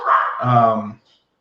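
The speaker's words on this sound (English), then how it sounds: "I had a dog bark." A dog gives a single close, loud bark that slides into a short whine-like tail, lasting under a second, then quiet follows.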